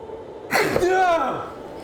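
One loud, close sneeze erupts suddenly, trailing into a drawn-out vocal tail before quiet returns.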